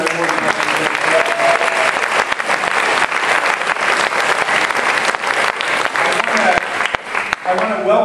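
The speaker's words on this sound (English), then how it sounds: "And let's start with a round of applause for Gene and for Fran Fulner." A town hall audience bursts into loud, sustained applause, dense clapping with some crowd noise carrying steadily throughout at close range.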